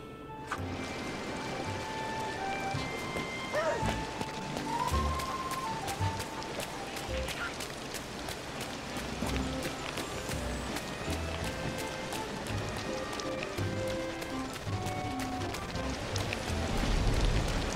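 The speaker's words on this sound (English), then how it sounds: "Downpour in this game." Heavy downpour in Disney Dreamlight Valley, a steady dense hiss of falling rain with faint patters, continuous and fairly quiet throughout, with light game sounds and occasional clicks mixed in.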